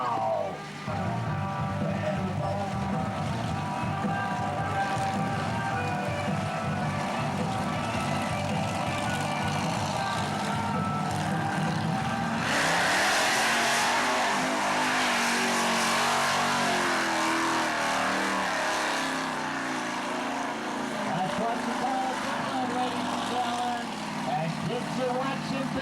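The original Bigfoot monster truck, with a supercharged Ford engine and four-wheel drive and steering, roars loudly and continuously at a motor show. The engine swells into heavier revving midway and holds a thick, rumbling drone throughout.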